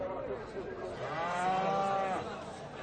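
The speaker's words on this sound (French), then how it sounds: "Mais c'est le marché aux taureaux qui intéresse surtout Mohamed." Bulls lowing and bellowing amid a busy outdoor cattle market in Imilchil, Morocco, with voices and crowd noise throughout; one long, drawn-out bellow stands out in the middle.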